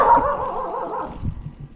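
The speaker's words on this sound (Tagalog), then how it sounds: "Maingay si aso." A dog barks and yips nearby, short agitated sounds over a steady high background whine.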